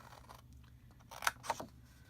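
Paper being cut with scissors while making a small no-glue box, a couple of quiet close snips in a near-silent room.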